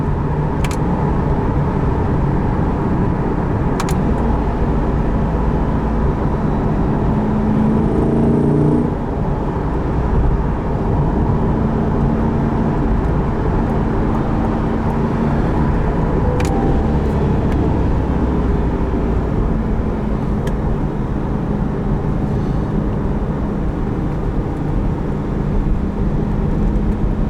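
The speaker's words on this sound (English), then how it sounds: "mid-engined car, the intake noise always gets me, every single time." A constant deep engine drone with intake roar fills the cabin of a mid-engine 2021 Chevrolet Corvette 1LT with performance exhaust, steady and loud throughout with only slight shifts in pitch.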